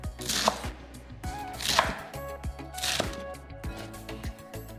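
Mustard greens being coarsely chopped with a knife: a few evenly spaced, crisp chopping strokes roughly a second apart over a steady tonal background.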